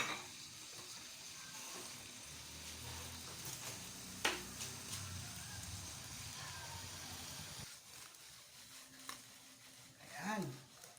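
Garlic butter shrimp with sliced green chili frying in a pan, Bicol style, a steady soft sizzle with a clink and some stirring, fairly quiet and continuous.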